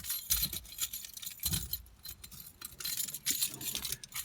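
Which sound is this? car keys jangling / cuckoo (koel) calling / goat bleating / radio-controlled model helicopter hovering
car keys jangling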